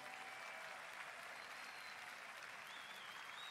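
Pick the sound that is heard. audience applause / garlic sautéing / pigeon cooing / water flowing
audience applause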